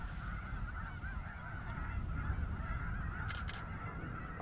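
A flock of geese with gray-feathered young of the year calls continuously from the fields, a steady overlapping chatter of honks and peeps at moderate distance, with no voices.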